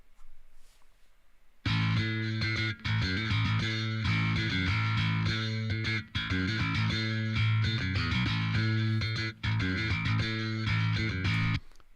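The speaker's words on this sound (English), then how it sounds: "So here's his bass soloed" A soloed bass guitar plays a distorted, effects-driven line, loud and full, entering after a short near-silent lead-in and continuing with brief rhythmic breaks between phrases.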